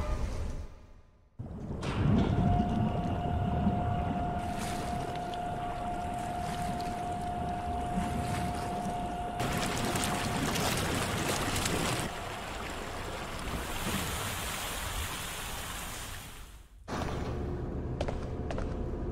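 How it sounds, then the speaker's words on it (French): Water rushes steadily out of a drained reservoir in Resident Evil Outbreak, a continuous moderate wash with a faint sustained hum, briefly cut off near the start and again near the end. "actionnez votre volant de van sur le réservoir pour faire évacuer l'eau de cette zone"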